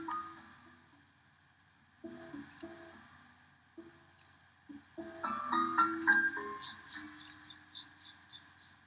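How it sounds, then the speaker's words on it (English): Opening of John Cage's Sonatas and Interludes (c. 1948) on prepared piano: sparse, quiet struck notes with percussive, gong-like and muted timbres, separated by pauses, then a denser, brighter cluster of ringing tones. "What you hear is the beginning of John Cage's Sonatas and Interludes,"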